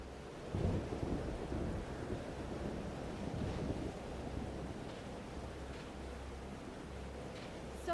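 Thunderstorm in the video game Life is Strange: Double Exposure, a steady wash of heavy rain and wind with a low thunder rumble swelling near the start and again midway, with no talk over it.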